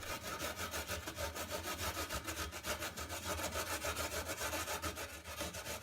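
Ginger is grated by hand over a small grater to get a quarter teaspoon for a simple baking mix, giving a steady run of quick rasping strokes, close and fairly loud throughout with no talking.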